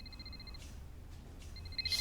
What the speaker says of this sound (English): That's just the normal ringing noise.